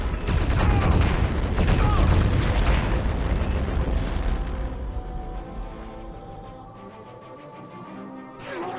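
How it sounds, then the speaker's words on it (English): Gun turret fire and explosions in Turok 2 aboard the Primagen's lightship: a dense, loud barrage of rapid shots and booming blasts that gradually thins and fades, with a final burst at the end. "this gun that will be more than happy to shoot us in the back"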